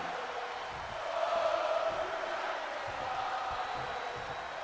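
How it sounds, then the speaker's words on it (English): Video game arena crowd from WWE 2K24 wrestling, a steady wash of cheering and murmur that swells a little in the middle, moderately loud and continuous with no talk over it. "This crowd behind Drew McIntyre in the early going of this match."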